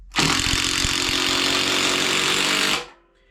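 A HART impact driver drives a screw into wood with a loud, steady buzzing hammer of rapid impacts that runs for about two and a half seconds, then stops abruptly.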